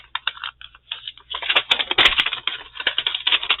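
Scissors cut across a paper envelope at the seam, a close, dense run of crisp snipping and crackling paper with no speech.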